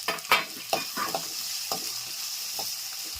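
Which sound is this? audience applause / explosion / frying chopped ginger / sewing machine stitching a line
frying chopped ginger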